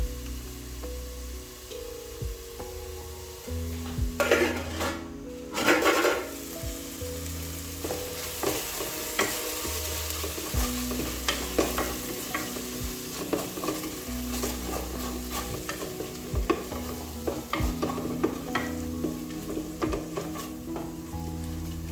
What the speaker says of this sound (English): I'll add in some tomato paste, then I'm going to let this cook for about 2 to 3 minutes